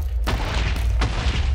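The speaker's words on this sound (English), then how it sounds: "Mega explosions exist! I'm gonna blow up this one." Two mega explosions in Minecraft with the Zane Extras mod, each a loud booming blast that rumbles on, the second following about three quarters of a second after the first.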